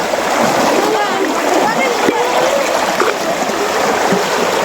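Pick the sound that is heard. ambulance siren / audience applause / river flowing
river flowing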